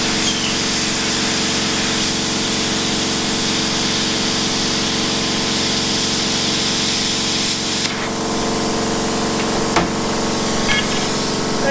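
An R-Tech P31 plasma cutter slices through metal with a steady, loud hiss and crackle that runs unbroken for the whole stretch, briefly shifting near the end as the cut finishes.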